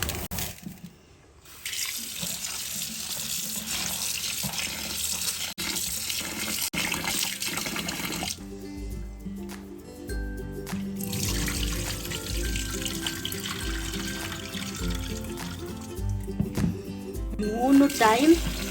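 Tap water runs into a bowl of basmati rice being washed, a steady splashing stream for the first several seconds before music and talk take over.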